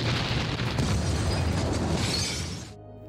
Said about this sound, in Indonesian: salah satu dari mobil sipir yang sedang berpatroli menginjak bom ranjau itu hingga membuatnya